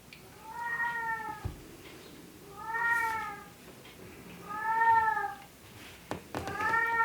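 A house cat meows repeatedly in a kitchen, with four clear, drawn-out calls spaced about two seconds apart. A few soft clicks and clatters sound between the calls.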